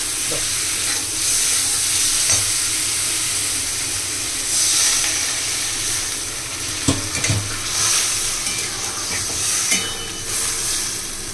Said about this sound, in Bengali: আমাদের কষা হয়ে গেছে, এবারে জল দেওয়া হবে।